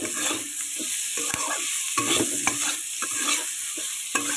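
Potatoes being stir-fried over a high gas flame, a steady sizzle of oil with repeated scrapes and clacks of the spoon against the pan, close and clear with no voices.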